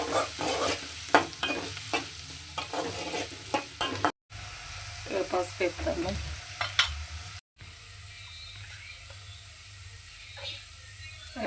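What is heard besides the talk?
fish curry frying and stirring in oil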